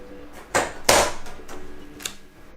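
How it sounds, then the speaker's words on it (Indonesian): A metal bracket piece is pressed into the back of a Xiaomi A27i monitor, giving a few sharp plastic-and-metal clicks and snaps in close succession, up close with no talking. "Tekan hingga berbunyi klik."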